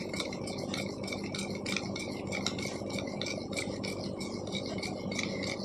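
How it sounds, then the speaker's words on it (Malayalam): A spoon stirs a coffee powder and glycerin face cream mixture in a bowl, a continuous quick clinking and scraping rattle that stays steady and fairly close throughout. "ഇനി ഇതെല്ലാതും കൂടിയിട്ട് നല്ല പോലെ ഇളക്കി സെറ്റാക്കി എടുക്കുക. കുറച്ച് നേരം ഇളക്കണം കേട്ടോ."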